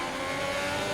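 Formula 1 race cars in a racing video game on the Russia circuit, a steady, loud engine drone with a sustained high whine throughout and no voices.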